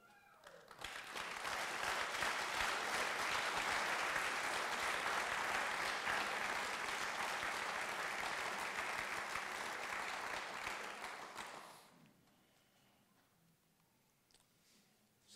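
Graduates and guests at a Florida graduation ceremony applaud in a large hall, dense even clapping rising quickly and holding for about eleven seconds before stopping abruptly into quiet room tone.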